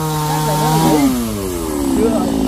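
Chainsaws cutting down trees, a loud revving engine whine that rises and falls in pitch as the blade bites, sounding close and continuous with a voice talking over it.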